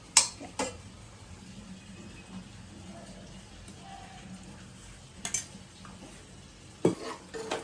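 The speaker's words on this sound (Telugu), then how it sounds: "ఫస్ట్ కొంచెం రవ్వ దూరగా వేపుతా. ఫస్ట్ రవ్వ వేపుకోవాలి. నెయ్యి వేసి" Semolina being roasted in ghee in a pan, with a faint continuous sizzle broken by a few sharp scrapes and clinks of a spoon stirring against the pan.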